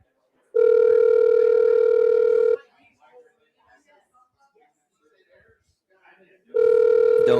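A telephone ringback tone sounds twice while a call waits for an answer: two long, loud, steady tones separated by a gap of quiet background noise.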